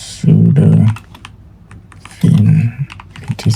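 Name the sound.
typing a terminal command on a computer keyboard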